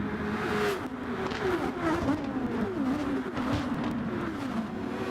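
Formula race car engine at Laguna Seca, a steady loud buzzing drone with a wavering pitch as the car shifts and accelerates, heard alone without talk.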